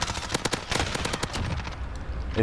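Rapid MP5 fire in Call of Duty Warzone: loud, close automatic bursts crackle in quick succession, then thin out into a steady wash of game ambience with no talking.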